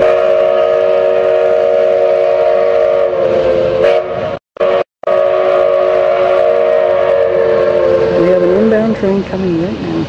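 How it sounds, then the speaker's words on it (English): A Durango and Silverton train arrives, its whistle sounding a loud, sustained multi-tone blast. The whistle breaks off briefly twice, then resumes, and its pitch wavers and bends near the end. "And the train should be in at 5:30."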